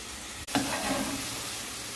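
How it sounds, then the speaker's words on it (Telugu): Onions, tomatoes and cashews fry in a pan for a masala brinjal curry, a close, steady sizzle that follows a brief stirring scrape and carries on without talk. "ఆనియన్స్ వేగిపోయిన తర్వాత టమాటాస్ కూడా వేసుకుని వేయించుకోవాలి దాంట్లోనే క్యాచెస్ కూడా వేసుకుని వేయించుకోవాలి"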